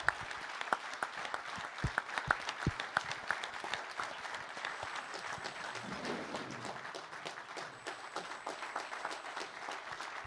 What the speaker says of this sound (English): Will you please stand and let all of us give you a warm round of applause?